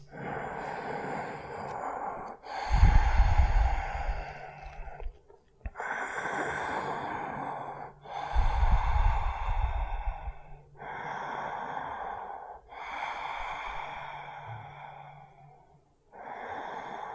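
Slow, deep breaths during a hatha yoga pose, each long inhale and exhale close and audible, about five breaths separated by brief pauses.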